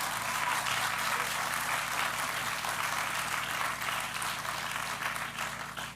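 Audience at a hall of fame gala claps in a sustained, fairly distant wash of applause that tapers off toward the end, with a low hum of the room beneath.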